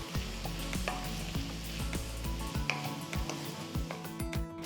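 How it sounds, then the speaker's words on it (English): Onions, garlic and soaked moong dal fry together as the base of a spinach sabzi in an Instant Pot, giving a soft steady sizzle with repeated scraping and stirring knocks, close but fairly quiet. "After mixing the dal, let this cook for about 2 minutes."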